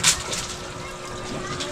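Water sloshes and splashes in a basin while laundry is soaked by hand at home. The liquid sounds are steady and close, with a brief splash at the start and faint voices in the background.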